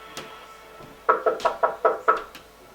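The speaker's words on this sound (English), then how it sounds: "so I just knocked really hard" Six sharp knocks on a door in a quick, fairly even series, loud and close, with faint rustling before them.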